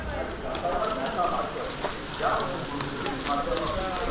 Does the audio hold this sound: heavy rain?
yes